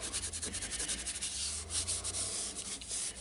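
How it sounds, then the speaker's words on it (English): A wood lathe spins a turned pork pie pot while it is sanded, giving a steady broadband rubbing hiss over a low motor hum, continuous and close throughout. "And then you can start your lathe up about 500."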